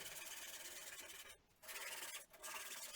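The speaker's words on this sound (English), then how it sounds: "I got to give it a once over with coarse sandpaper to give it a bit of tooth so that the paint will adhere to it better" Coarse sandpaper scrubs steadily across a surface being prepped for paint, a continuous gritty rasp broken by two brief pauses, close and fairly loud with no talking.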